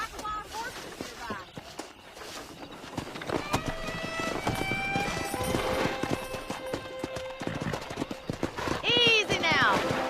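Hooves of wild horses pound in a fast, steady gallop in Red Dead Redemption 2, with a horse whinnying near the end, under music and someone talking.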